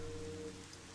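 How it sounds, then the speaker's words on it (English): Steady rainfall in the Twilight Princess video game, a soft continuous patter behind a low sustained tone from the game's music, with no talking. "It's raining"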